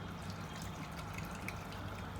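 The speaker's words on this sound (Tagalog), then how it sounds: "Lalagyan ko ng tubig." Water is poured into a cooking pot, a steady, fairly loud stream of splashing and trickling that runs unbroken throughout, with no talk.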